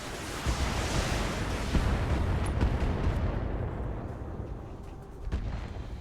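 Turrets blasting away in the mech game BattleTech, a dense, continuous roar of booming explosions and artillery-like fire that stays loud throughout, with a few sharper bursts standing out from the rumble.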